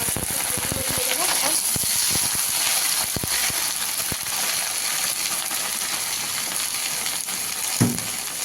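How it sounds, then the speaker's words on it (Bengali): Green chillies sizzle and hiss as they drop into hot oil, a steady broadband frying crackle with a few sharp pops and spits throughout, close and fairly loud. "এবার দিয়ে দিলাম কাঁচা লঙ্কাটা তেলে।"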